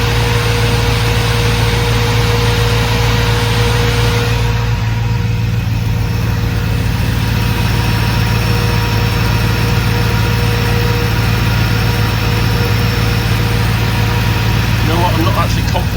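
The engine of an AK4 car runs steadily just after its first start, a loud continuous hum with a cooling fan whirring, close and unbroken throughout.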